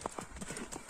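Hooves of a ridden horse clip-clopping in quick, light, fairly faint beats over a short stretch.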